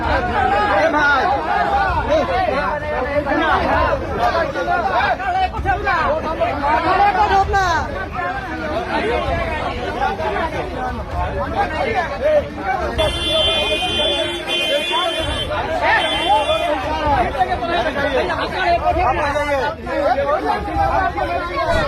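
An angry crowd at a political gathering shouts slogans against a politician, a loud, dense wall of raised voices that never lets up, with a brief horn-like tone partway through.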